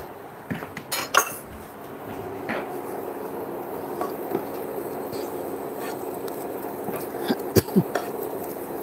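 A spoon handled against a heated frying pan while butter melts, a few sharp metallic clinks and taps scattered over a steady low background hiss.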